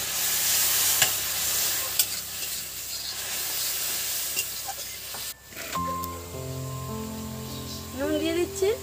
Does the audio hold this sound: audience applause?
no